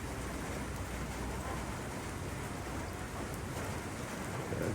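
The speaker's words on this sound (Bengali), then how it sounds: "সারা রাত প্রচুর বৃষ্টি হয়েছে" Heavy morning rain falls outside a resort room in Cox's Bazar, a loud, steady, broadband hiss of downpour with a faint low rumble beneath, continuous throughout and without voices.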